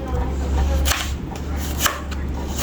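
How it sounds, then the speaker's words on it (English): An onion is finely chopped with a kitchen knife, rapid close taps on a cutting board in quick bursts over a steady low background rumble. "And I'm looking to cut this onion up as fine as possible."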